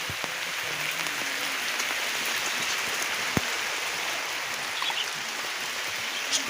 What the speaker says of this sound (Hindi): देखो केते जोर वर्षा हो